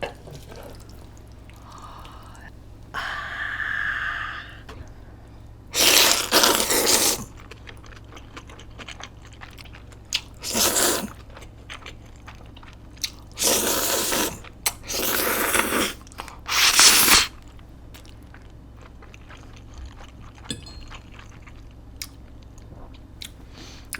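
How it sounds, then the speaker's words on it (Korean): Lobster buldak cream pasta noodles with basil being eaten up close, several bursts of wet slurping and chewing separated by quiet pauses, with faint soft handling sounds between. "면을 좀 먹어볼게요. 바질이랑 섞어가지고."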